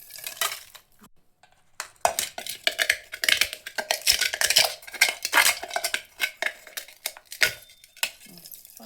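Metal cooking vessel being scrubbed clean, with close, busy bursts of scraping and clinking that start after a quiet moment and continue in uneven rapid strokes, no talking.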